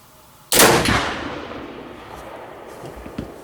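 A single loud flintlock mountain rifle shot with a 100-grain powder charge cracks sharply and close by, then its echo and rumble fade slowly over the next few seconds.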